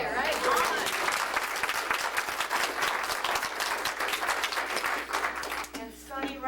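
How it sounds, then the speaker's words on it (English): A round of applause for the vice president at an annual association meeting, a full crowd clapping steadily that thins out near the end as voices begin to come through. "I'd like a round of applause for you as a vice president."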